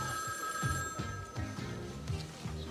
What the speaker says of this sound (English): Phone call for Sophia Capwell